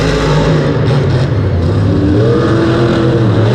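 Monster Jam monster trucks race in round 2 at San Diego, with Bakugan Dragonoid against Vendetta. The close, loud engine roar is steady, and a pitch climbs as one truck revs and accelerates.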